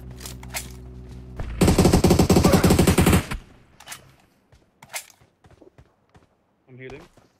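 An automatic weapon in PUBG Mobile fires a sustained, loud burst lasting over a second, preceded by steady engine-like game ambience, followed by scattered softer footsteps and small in-game noises.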